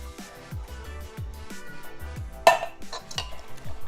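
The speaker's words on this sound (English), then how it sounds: "Keep stirring, keep stirring." A spoon stirs mochi cake batter by hand in a bowl with coconut milk mixed in, giving a steady rhythmic swish about twice a second with a sharper knock against the bowl partway through, close up with no talk.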